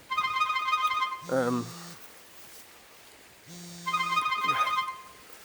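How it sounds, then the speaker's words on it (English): A mobile phone ringtone sounds in two short bursts of a repeating electronic melody, with a quiet gap between them, close and fairly loud against a faint background. "Oh God, there's my phone. Oh, freaking ding dong! Right in the middle of the video."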